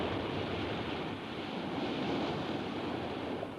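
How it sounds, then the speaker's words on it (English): Storm-force southerly gale striking Cadgwith Cove, with surf pounding the shore head-on: a loud, continuous roar of waves and wind buffeting the microphone, sustained without pause and no voices. "this is a southerly gale, storm force."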